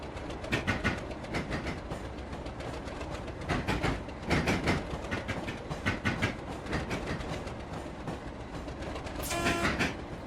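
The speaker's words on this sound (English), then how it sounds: "clatter rail joint sounds as it heads over point work" Video game train wheels clatter rhythmically over rail joints and points, a steady rolling clickety-clack with a brief hiss near the end, heard from outside the cab of a Class 37 locomotive in Roblox.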